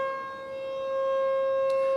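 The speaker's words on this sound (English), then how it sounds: "The weather sirens are going off here." An outdoor weather warning siren sounds during its monthly noon test near the Ohio River, holding a steady, sustained wail that carries loud and clear with no talk over it.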